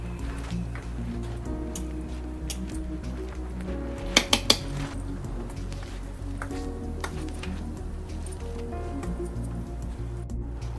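Flaxseed spice powder stirred in a dish with a metal spoon, steady scraping and soft clinks with a quick burst of sharp taps partway through, close over a constant low hum.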